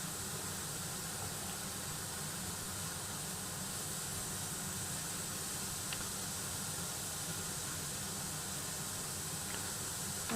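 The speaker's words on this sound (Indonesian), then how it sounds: "Tambahkan potongan wortel berikutnya. Tumis beberapa saat." Carrot pieces sizzle in hot oil in a pan, a steady, even hiss of frying that stays constant throughout without any talking.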